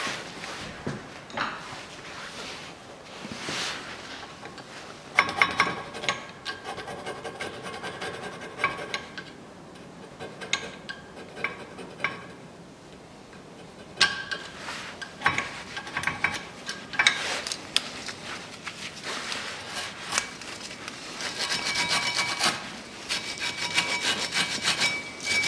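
Brake caliper bracket seats being scrubbed clean during a front pad change on a 2013 Mitsubishi ASX 1.8, giving close, irregular scraping and rubbing strokes in bursts with brief pauses between them.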